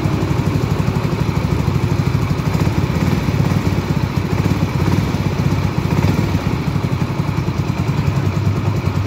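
Yamaha Xeon RC motorcycle engine running steadily at idle, a loud, close, even putter with a continuous mechanical rattle throughout and no voices.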